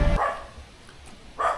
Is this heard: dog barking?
yes